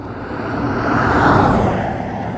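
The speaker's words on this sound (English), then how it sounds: "ooh, there's another car coming" A car passes on a busy road, a broad steady whoosh that swells to a peak midway and eases off, loud and close with no talking over it.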